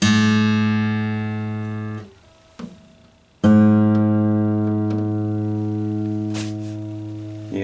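Strummed fan-braced Guild D-40 acoustic guitar chords with coated strings ring out and slowly decay, then a second strum follows after a short pause with a few light string noises.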